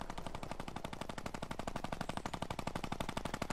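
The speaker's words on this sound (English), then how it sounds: "Someone's spamming the minigun." Minigun in the Fortnite battle royale game firing in one long rapid burst of closely packed shots, loud and continuous throughout with no pauses.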